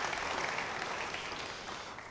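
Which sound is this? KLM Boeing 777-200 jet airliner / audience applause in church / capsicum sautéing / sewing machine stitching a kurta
audience applause in church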